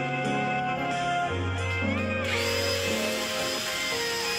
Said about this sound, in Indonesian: istrinya mainin mesin bor